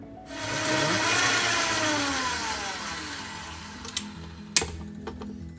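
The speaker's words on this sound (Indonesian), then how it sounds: "Setelah itu kita mixer sampai adonan tercampur rata." An electric hand mixer whirs through cookie dough for lidah kucing, starting abruptly and holding a steady close motor whine that sags slightly as the batter thickens, ending with a couple of sharp knocks.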